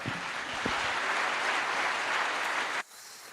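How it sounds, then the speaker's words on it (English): Conference audience bursts into sustained applause, a broad, even roar of clapping that holds steady and then cuts off abruptly near the end, leaving a quiet room. "A big round of applause"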